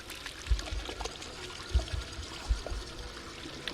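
A tap runs in a video game bathroom, a soft continuous pour and trickle of water marked by a few faint, dull knocks.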